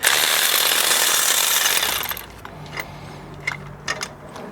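Brief rapid ratcheting as a 17 mm bolt is backed out of a Mazda 3 torque mount, a dense burst for about two seconds, followed by a few faint isolated clicks and clinks close by.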